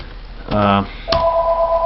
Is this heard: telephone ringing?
yes